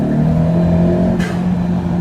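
A 10th-gen Honda Civic with a Prl Cobra cold air intake and turbo revs steadily, its engine drone holding close and fairly loud before a brief hiss of intake air cuts in.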